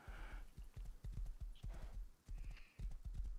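Hooves of a horse in the survival video game Rust clip-clop in a steady, rhythmic trot, fairly faint and unbroken by speech.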